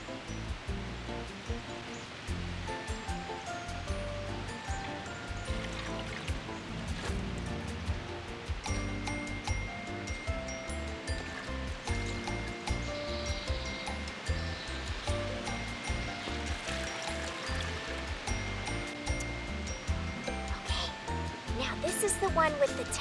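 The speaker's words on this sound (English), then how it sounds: "Now we're going to fill it up with all the clean water" Clean water pouring into a tadpole container, a steady splashing rush running for a long stretch with a voice talking over it.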